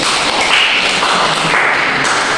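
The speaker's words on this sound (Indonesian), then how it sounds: "Berikan aplaus" Applause from a classroom of students, a dense steady patter of many hands clapping at moderate loudness throughout, with no talking.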